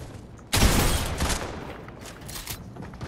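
Rapid bursts of SMG fire in a video game, a sudden loud crackling volley that starts abruptly and then trails into fainter repeated shots, with no talking.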